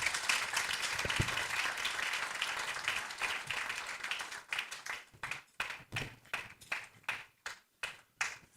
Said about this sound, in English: let's also give a warm round of applause for DCJ as he leaves.